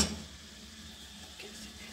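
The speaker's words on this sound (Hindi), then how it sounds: "ये कॉर्नफ्लोर इसके अंदर साथ साथ आपने मिक्स भी करते जाना है" Cornflour being stirred into a pot of chicken corn soup with homemade chicken stock, a soft steady scraping and swirling over a low simmering hiss, fairly quiet and without voices.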